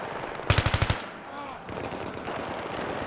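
A short, loud burst of automatic gunfire of about six rapid shots in Battlefield 3 combat, followed by quieter background game noise.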